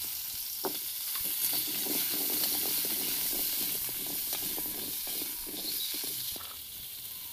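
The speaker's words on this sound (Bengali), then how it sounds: "এবার আমি 3 থেকে 4 মিনিট ফুলকপিগুলোকে মাঝারি আঁচে ভেজে নেব।" Cauliflower florets fry in oil in a kadai over medium heat, a steady hiss and crackle lasting several seconds with scattered pops and light stirring, and no voices.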